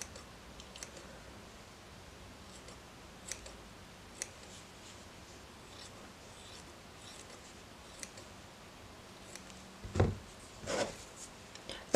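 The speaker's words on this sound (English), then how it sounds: "take the scissors and give this a little trim, just to neaten it all up" Quiet, sparse snipping of scissors trimming needle-felted wool, a few soft isolated cuts, then a couple of louder snips near the end.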